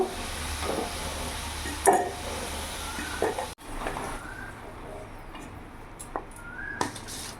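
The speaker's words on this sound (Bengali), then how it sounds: "ওই তেলের মধ্যে ফোড়নে দিয়ে দিলাম তেজপাতা শুকনো লঙ্কা গোটা জিরে গোটা গরম মশলা" Whole spices (bay leaves, dried red chillies, cumin seeds, whole garam masala) sizzle in hot oil with a steady crackling hiss, broken by a few sharp clinks of a utensil against the pan.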